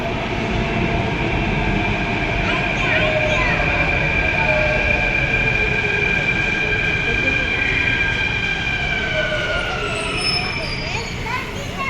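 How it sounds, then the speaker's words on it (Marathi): A metro train pulls into a crowded station in the evening. It makes a loud, continuous rumble with whining, slowly shifting motor tones that hold for the whole stretch, close by. "बस 100साठी मेट्रो ट्रेन आलेले आहे. तर आम्ही त्या ट्रेन पकडणार आहे."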